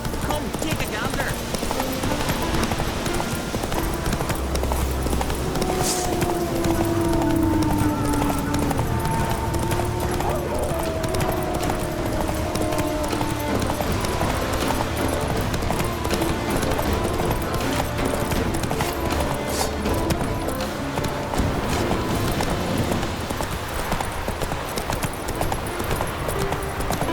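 In The Witcher 3 on Skellige, a horse gallops with steady, quick hoofbeats clopping close over a constant game background, while someone speaks briefly and music sits underneath.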